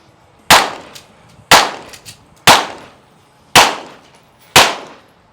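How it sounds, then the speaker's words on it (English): Five sharp gunshots ring out at roughly one-second intervals during a competition stage shooting sequence, each loud crack followed by a short decaying echo, with no talking. "he has now entered into his second of 3 shooting sequences"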